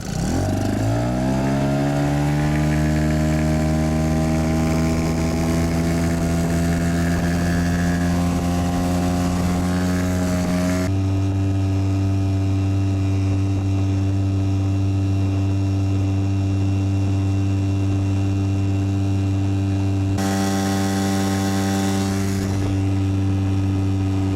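A Tohatsu 5 outboard motor pushing a Flagman 330U inflatable boat at speed, a loud, steady, close engine drone that rises in pitch at the start and then holds, with brief shifts in tone along the way.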